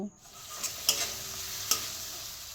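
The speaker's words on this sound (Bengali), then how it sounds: "এবার আমি ভালো করে একটু মশলাটা কষিয়ে নেব" Ground turmeric, chilli, cumin, coriander and garam masala fry in a pan under a continuous hiss, punctuated by a few sharp spoon clicks against the pan as the spices are stirred; no voices.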